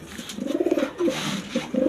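A pigeon coos softly inside a pigeon loft, giving repeated low, throaty rolling calls at close range with short pauses between phrases.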